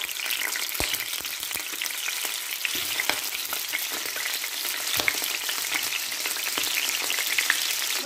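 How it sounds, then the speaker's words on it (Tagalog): Hot dogs frying in a pan before being rolled in bread, giving a steady moderate sizzle with scattered crackling pops throughout. "iprito muna natin yung ating hot dog bago natin balutin doon sa ating"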